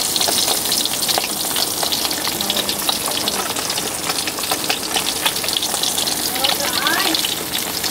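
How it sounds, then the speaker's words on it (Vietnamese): Fish fries in a pan of hot oil, giving a loud, continuous crackling sizzle with dense spattering that runs unbroken from start to finish. "Mình có cá chiên vàng nè."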